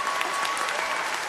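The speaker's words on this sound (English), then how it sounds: "Crowd goes wild!" Dense, steady applause from an awards-ceremony crowd at a games awards show, filling the room without a break and with no voices standing out.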